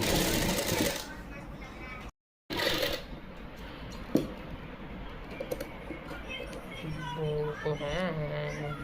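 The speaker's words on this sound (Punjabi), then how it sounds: "ਲੈਸ ਤੇ ਚੁੰਨੀ ਨੂੰ ਆਪਾਂ ਇਦਾਂ ਢਿੱਲਾ ਹੱਥ ਰੱਖ ਕੇ ਹੀ ਸਲਾਈ ਲਗਾਵਾਂਗੇ" A sewing machine stitches lace onto a dupatta in short, fast bursts of mechanical whirring and clatter, fairly quiet and close, with someone talking over much of it.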